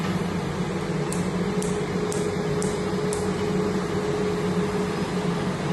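An air cooling blower runs during laser tattoo removal, giving a steady, loud whooshing hiss with a low hum throughout, while a few faint evenly spaced laser clicks sound in the first half.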